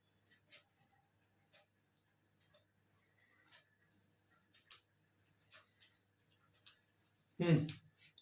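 Chalk or marker writing on a board in a classroom lecture on fertilizers, sparse soft scratching strokes and taps spread across a quiet room, ending in a louder knock.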